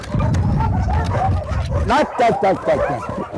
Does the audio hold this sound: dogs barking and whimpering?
yes